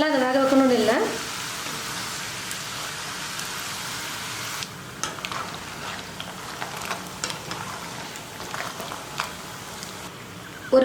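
Pieces of semolina snack dough deep frying in hot oil, a steady crackling sizzle with scattered sharper pops throughout, close up and continuous, with a brief voice at the start.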